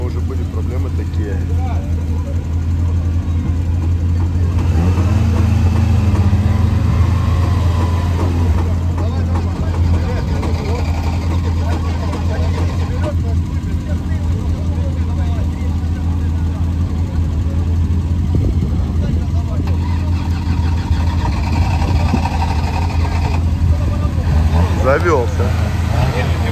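Engine of an off-road UAZ rally car starts and settles into a steady low idle at close range, with people talking intermittently over the rumble.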